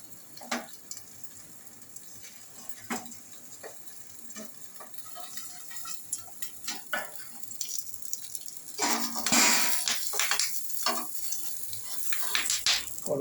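Cabbage cooks in a covered pan over a raised flame, a soft continuous sizzle with scattered ticks and clicks of the lid and utensils, then a louder burst of hissing near the end, close by with no talking.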